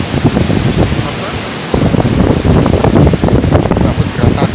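Strong wind buffets the microphone at Citarate beach in Cilograng, Lebak, Banten, a steady roaring gust close by with surf mixed in, while people talk over it.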